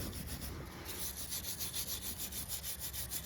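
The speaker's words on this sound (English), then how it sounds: "You can sand it down." Rust being sanded off the wheel hub of a 2009-2015 Toyota Venza: a steady, close, rhythmic abrasive rubbing with a faintly pulsing back-and-forth scrape, heard alone with no talking.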